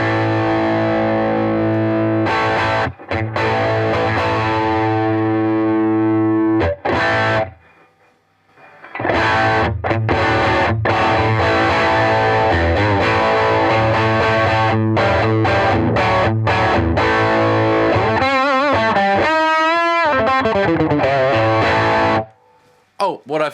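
An electric guitar plays through a Bugera V22 Infinium tube amp with a built-in 12-inch Turbo Sound speaker, giving loud distorted chords and riffs with short breaks and a held, wavering note near the end.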